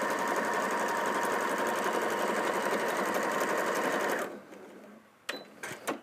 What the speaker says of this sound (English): I kind of need one of those Lone Ranger music things to go when I'm sewing long bits like this